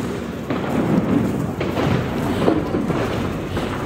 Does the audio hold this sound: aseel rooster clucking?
no